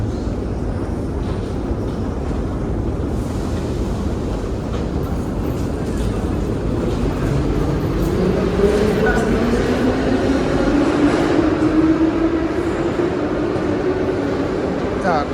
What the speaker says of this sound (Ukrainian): якраз і прийшов потяг